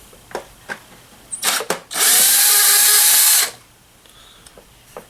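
A power drill spins out Allen screws from the bottom housing of an FB25 Weedeater string trimmer, running in one loud, steady whir of about a second and a half, with a few short clicks and taps before it.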